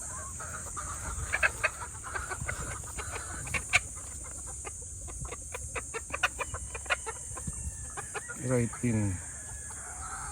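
A Python Red gamefowl rooster clucks in short, sharp bursts, then gives a brief crow near the end, close up against a faint background hum; people talk quietly nearby.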